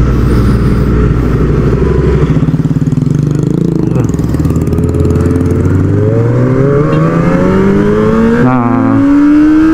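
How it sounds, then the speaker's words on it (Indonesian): A Kawasaki ZX25R motorcycle engine warms up after a month unused, holding a loud, steady idle close by and then revving up in long rising sweeps that fall back and climb again. "manasin motor karena udah sebulan lebih nih motor nggak jalan"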